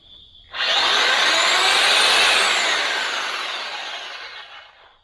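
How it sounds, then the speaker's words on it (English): A DeWalt 12 amp reciprocating saw powered by a Bluetti EB3A portable power station roars up loud and close after a brief pause, holding a harsh buzzing whine for several seconds before slowly fading as the power drops out. "How about a Dewalt reciprocating saw? This is a 12 amp."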